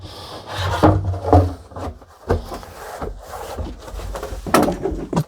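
A cover fitted with a Thien baffle being set back onto a dust collection barrel in a workshop, giving scattered close wooden knocks, rubs and scraping bumps at an uneven rhythm.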